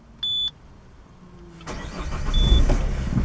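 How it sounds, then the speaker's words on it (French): A Citroën C4 diesel car starting from inside the cabin: a short dashboard chime, a brief pause, then the starter catches and the engine fires, rising into a steady, throbbing idle, close and loud, with another soft beep partway through. "Je vais le rallumer."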